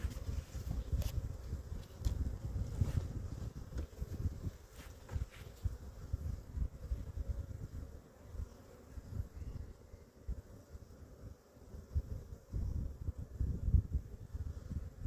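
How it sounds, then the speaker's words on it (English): Honeybees fly around a hive on a February morning, a faint, continuous buzzing hum with individual insects passing near the microphone, with light wind and rustling. "A lot of bees out flying this morning"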